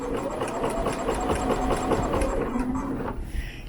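A sewing machine stitching jersey fabric in a steady rapid whirring run, close and fairly loud, easing off near the end with no talking over it.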